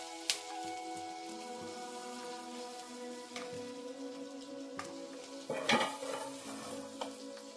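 Capsicum sizzles steadily in hot oil in a pan while a spoon stirs it, with scattered scraping clinks against the pan and a brief louder stir burst near the end.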